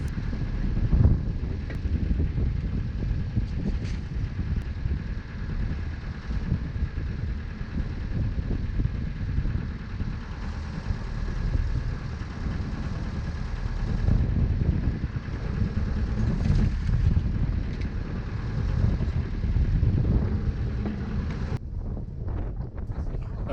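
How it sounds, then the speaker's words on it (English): Heavy, steady wind buffeting a microphone on a boat at sea during commercial rod and line fishing for whiting off Cornwall, a continuous loud low roar with gusty surges and no clear speech. "you can't hear what I'm saying because it's windy"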